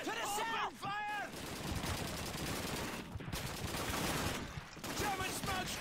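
Sustained gunfire from British troops in the Call of Duty 2 video game, a steady rattle of rifle and machine-gun shots across the battlefield, with brief shouted voices at the start and end.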